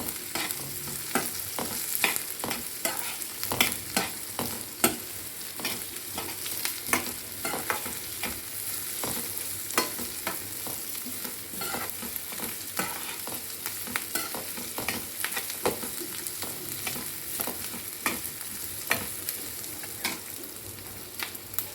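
Cashews and poppy seeds are stirred and sautéed in a pan for a chana masala, giving a steady close sizzle broken by repeated sharp scraping and stirring clicks that continue throughout without talk.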